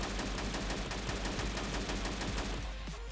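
AK-12 rifle fire in the ArmA 3 video game, a rapid, steady string of loud, close shots in quick succession over a dense background rumble.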